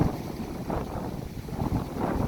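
Dry-season wind blowing across parched rice fields in the Lao countryside, a continuous blustery rush with gusts rising and falling, buffeting the microphone.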